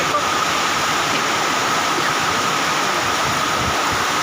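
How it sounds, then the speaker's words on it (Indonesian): Heavy rain driven by strong wind over a flooded muddy truck terminal, a dense, loud, unbroken roar of falling water that fills the whole stretch at close range. "dicapai hujan berserta angin kencang"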